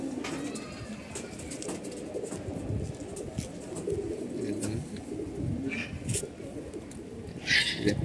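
Pet pigeons, molting birds kept in a cage, coo in low repeated throaty calls close by, with scattered chirps and light rustling throughout.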